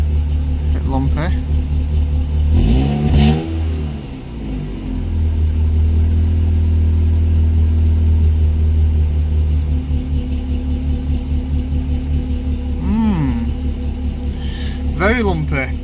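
A Ford Puma race car engine idles roughly with a loud, lumpy low rumble close by, with a couple of blips in pitch and occasional handling noises; a person talks over it at times.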